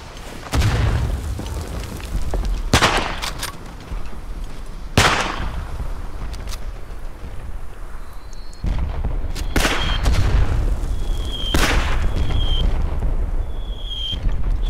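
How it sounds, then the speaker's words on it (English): Artillery shells pound the ground during a bombardment in the First World War shooter Verdun, a series of loud, sharp booming impacts spread a few seconds apart over a constant rumbling battlefield din, with no talk. "Bombardement."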